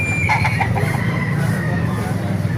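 Roosters at a Baliuag market, several crowing and clucking bursts up front over a busy market din, fairly close, with talk mixed into the background.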